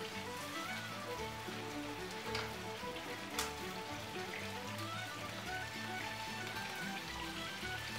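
Guinea fowl supremes sizzle steadily in a pan, a dense continuous crackle and hiss heard close up that stays even throughout, with no voices over it.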